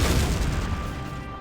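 Grenade launcher explosion in the video game Valkyria Chronicles, a loud booming blast with a rumbling tail that fades out over a second and a half.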